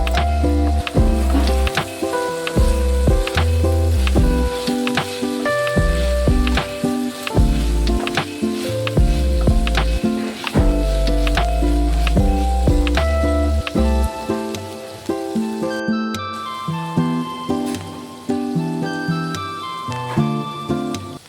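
Potatoes and yardlong beans are stirred in a hot pan, giving repeated close clatters and scrapes of the utensil over a constant wet sizzle.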